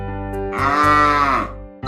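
A cow moos in a single long, loud, drawn-out low call with a rising then falling tone, heard alone without any talk.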